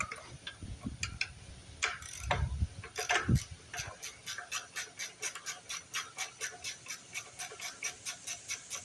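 Removing a bolt under the fuel tank of a 1955 Briggs engine: a ratchet wrench clicks in a steady, regular run of close, sharp ticks, preceded by a few heavier knocks and scrapes.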